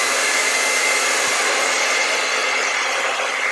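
A hair dryer blows close and loud on wet red underpainting on a canvas, a continuous steady whoosh with no talking.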